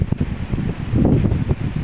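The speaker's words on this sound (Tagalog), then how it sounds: "Lakas ang hangin." Strong seaside wind buffets the microphone in a steady low roar with gusty swells, outdoors with no voices, in Talisay, San Andres, Quezon.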